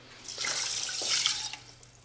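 Water poured into a pot of rice, a short close splashing pour lasting about two seconds, with no voices.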